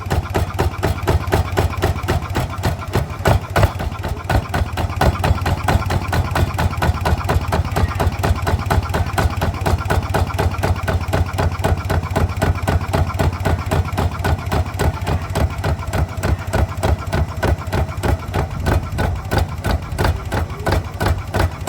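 A small ZT 155 farm engine idles close by with a steady, even chugging rhythm that continues unbroken throughout.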